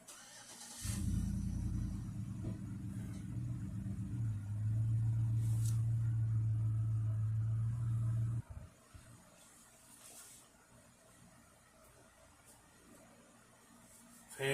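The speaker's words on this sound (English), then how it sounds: "Fan is very quiet." A 2010 Media 15-inch oscillating desk fan on medium speed gives a steady, soft low hum that cuts off abruptly partway through, leaving near silence.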